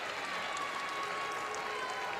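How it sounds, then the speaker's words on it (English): Michigan basketball crowd on its feet applauding reserves late in a Hall of Fame Tip-Off final against Providence, a steady, dense wash of clapping and arena noise with a faint sustained tone running through it. "This Michigan crowd that travels well with this team on their feet in appreciation"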